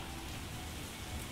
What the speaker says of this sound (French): il se met à pleuvoir